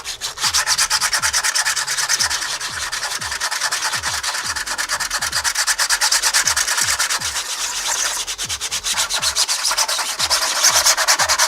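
Steady back-and-forth sanding of a 3D printed part, rhythmic rough rubbing strokes repeating continuously at close range with no talking.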